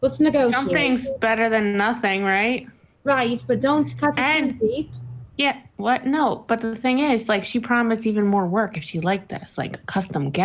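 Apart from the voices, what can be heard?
No everyday noise stands out behind the speech.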